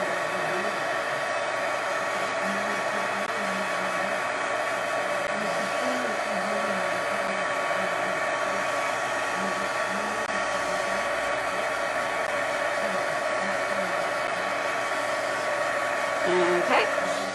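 A heat tool warming a foam stamp for embossing blows with a steady whirring hiss and a constant whine, running without pause at moderate level, with no talk over it.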